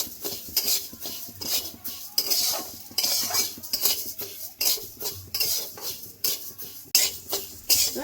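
Rice dry-roasting in a pan while being stirred makes rhythmic scraping and clinking strokes of a utensil against metal, near and fairly loud, with a faint sizzle between the strokes.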